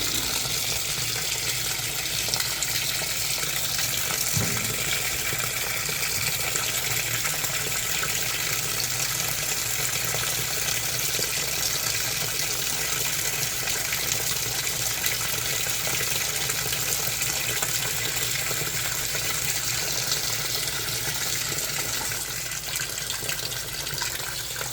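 An Amana NTW4519JW2 top-load washing machine fills steadily with water on an auto-sensing cycle, a continuous rushing gush of water running at an even level throughout.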